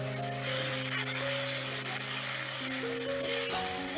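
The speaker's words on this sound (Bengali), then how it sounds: "এবার টমেটোটাও ভালো করে মিশিয়ে নেব।" Pasted tomato being stirred into a frying pumpkin curry: a soft continuous sizzle and wet scraping throughout, with a steady tonal hum running underneath.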